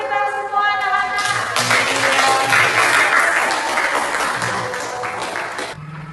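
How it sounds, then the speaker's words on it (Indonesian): Fourth-grade children clap together in a classroom, a dense burst of applause lasting several seconds that swells, holds steady, then cuts off, with a brief voice at the start. "Tepuk tangan untuk kita semua anak-anak."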